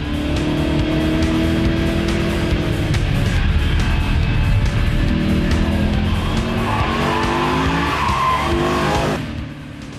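A Hartge H50 BMW M3 coupe with a 400 hp 5.0-litre V8 driving hard, close and loud engine roar rising and falling through gears with tire squeal, sustained until it fades near the end.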